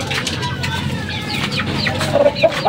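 A hen and a newly hatched chick from a backyard gamefowl breeder cluck close by, with thin high chick peeps toward the end over a steady background of farmyard noise.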